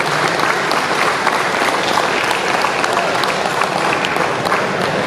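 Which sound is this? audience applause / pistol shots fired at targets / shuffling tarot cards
audience applause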